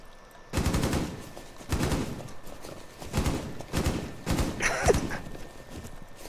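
Video game gunfire rings out in a rhythm of about five or six spaced bursts, each sharp, loud and ringing briefly, with a quiet background between shots.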